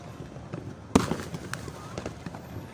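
Outdoor New Year fireworks salute: one sharp bang followed by scattered crackles and pops at a moderate distance, with faint voices in the background.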